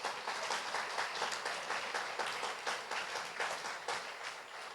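A church congregation applauds in praise during a Spanish-language sermon, a steady, dense round of clapping with rhythmic pulses running the whole stretch, fairly close and moderately loud.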